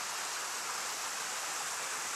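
Silvermine Bay Waterfalls, running with fairly little water: a steady, even hiss of falling water, unbroken and moderately loud, with no voices.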